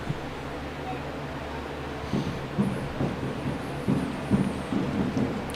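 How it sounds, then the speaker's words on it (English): Thunderstorm over Elmira, New York, with strong winds: steady rain hiss underneath while repeated low thunder rumbles roll in and swell through the second half, fairly loud and unbroken. "a massive storm rolled in here to Elmira, New York. Very strong winds."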